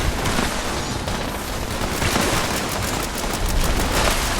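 Gunfire from a weapon in the video game Fallout 76, a steady, dense stream of loud rapid shots and crackling bursts running throughout without pause.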